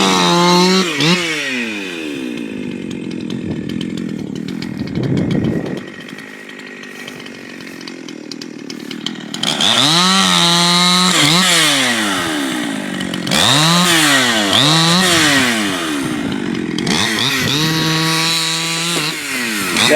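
Several Husqvarna chainsaws, including a 61, a 621 and 258s with open and closed ports, cut firewood logs outdoors: loud, close engines rising and falling in pitch as they bog into the wood and rev free, with a brief lull midway.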